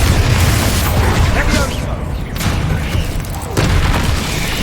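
The Bombarda explosion spell going off in Hogwarts Legacy, a loud, dense booming blast with rumbling low end that fills the whole moment, close and continuous with no separate talk.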